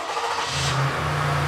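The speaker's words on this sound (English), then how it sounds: "Let's wait for that engine to start." A Toyota Highlander engine starts by remote start from the key fob, with a rush of noise giving way to a steady low idle hum, close and fairly loud, with no voices.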